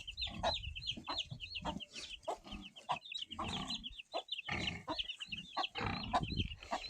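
Chicks peep in rapid, high repeated chirps across the whole stretch, joined by clucking hens and low farmyard noise, close and lively with no talk.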